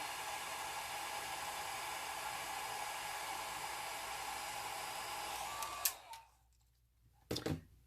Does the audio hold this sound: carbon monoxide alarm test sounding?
no